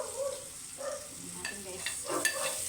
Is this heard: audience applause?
no